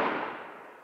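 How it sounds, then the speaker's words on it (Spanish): Firecrackers set off in a Spanish village during Christmas: a single loud broadband burst opens the moment and then dies away into a long, fading reverberant rumble with no talking. "los petardos que tiran aquí en el pueblo."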